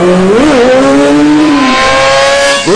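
Motorcycles of a bikers gang revving on Delhi roads: a loud, sustained engine roar whose pitch swells upward and dips, then rises again sharply at the end.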